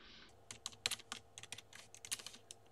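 Terminal commands typed on a computer keyboard, a quick irregular run of crisp close key clicks and taps with short pauses between bursts, no talking.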